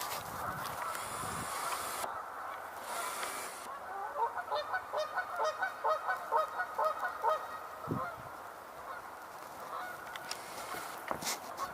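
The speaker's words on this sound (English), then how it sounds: "got geese taking off by the sound of it" A flock of geese takes off outdoors, honking in a rapid string of calls that builds in the middle and fades, heard at moderate distance over a broad wind-like background rush.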